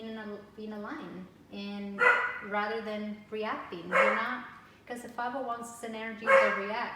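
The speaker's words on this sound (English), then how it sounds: "Excuse my dog." A pet dog barks repeatedly indoors, several loud yapping barks and whines in quick bursts overlapping with a person talking steadily nearby.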